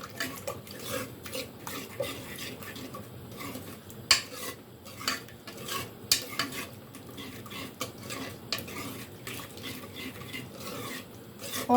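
A spoon stirs turmeric, ground red chilli and salt in a pot for mutton pulao, giving a run of irregular scrapes and metal clinks against the pot, moderately close and without talk.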